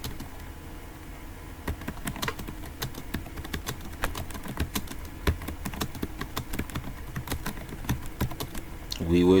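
Rapid clicking of a computer keyboard as someone types into a web bar, irregular bursts of close, crisp keystrokes over a quiet background, with a louder shuffle at the very end.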